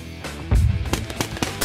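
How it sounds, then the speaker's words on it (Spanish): A shotgun in the game Happy Room fires a heavy close blast, followed by a quick series of sharp shot cracks and impacts, all alone without talk. "¡Escopetazo a la cara!"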